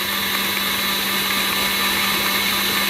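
An electric mixer churns whipped cream into homemade butter with a steady, loud motor whir that holds unbroken throughout, close up with no talking.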